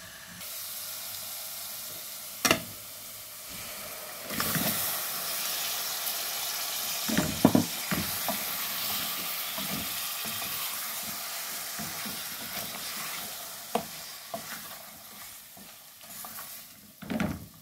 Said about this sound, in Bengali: এদিকে আমি পেঁয়াজ আর রসুনটারে ব্রাউন কালার করে ভেজে নিচ্ছি